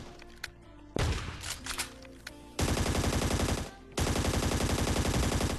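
Gunfire in the mobile battle-royale game Scarfall 2.0: a few sharp shots, then two long sustained bursts of rapid automatic fire, loud and close with no talk.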